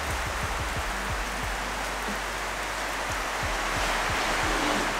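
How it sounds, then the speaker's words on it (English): Heavy rain pours steadily outside, a dense, loud hiss of water hitting surfaces, with faint low knocks and thumps scattered underneath throughout. "It's raining outside and I'm yelling."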